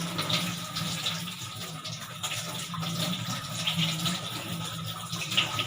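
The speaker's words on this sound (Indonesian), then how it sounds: "Kemudian buka keran menggunakan siku." Water runs steadily from a tap turned on with an elbow for handwashing, a continuous rushing hiss with faint splashing, no voices.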